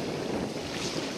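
Steady broadband wash of shallow surf on a beach and wind noise, continuous and fairly loud, with no voices.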